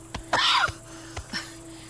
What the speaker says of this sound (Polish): Masz brzydki kaszel.